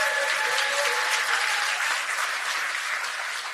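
A crowd at a Democratic Party Seoul campaign committee launch event claps loudly and continuously, a dense, sustained wash of applause that tapers slightly toward the end.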